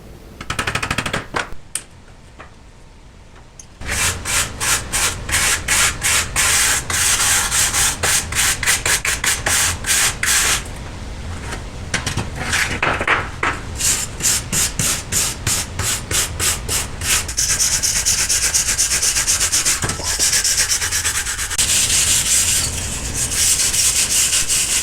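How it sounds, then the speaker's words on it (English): Wire brush, wire wheel and sanding scour rust off a Buick Skylark door panel, a loud, steady scraping and grinding that runs in pulsing bursts with brief pauses, ending in continuous harsh abrasion. "lots of wire brush, wire wheel, sanding, to get rid of the rust that had built up on those"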